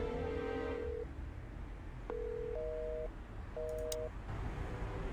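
Telephone keypad tones and a repeating busy signal in the Chicken Police video game, with a few short beeps followed by pulsed two-tone bursts over a low background hum.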